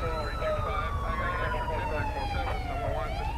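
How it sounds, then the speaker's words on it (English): Ambulance sirens wail in the GTA 5 video game as emergency units arrive at a major incident, a steady continuous siren tone sweeping through the whole stretch over a dense, loud background. "all the ambulances showed up"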